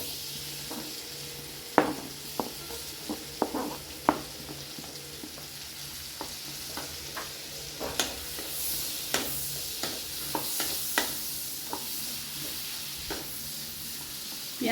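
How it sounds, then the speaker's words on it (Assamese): Onions fry in butter on a non-stick pan while a sandwich filling is made, a soft, steady sizzle broken by irregular clacks of a spatula stirring against the pan. "এয়া বাটাৰখিনি গৰম হোৱাত মই প্ৰথমতে পিয়াজখিনি দি লম"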